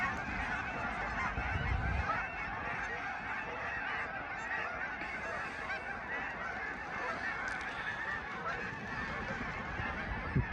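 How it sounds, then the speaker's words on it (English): A large nighttime flock of Canada geese and seagulls on water honks continuously, a dense overlapping chorus of many calls, close and loud, with a rush of wings near the start as birds take off. "Sounds like there's a lot of them. Seagulls, ducks, geese."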